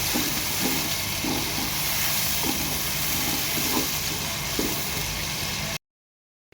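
Onions frying in a karahi for chicken karahi, giving a dense, even hiss and sizzle close up that runs steadily before cutting off abruptly near the end.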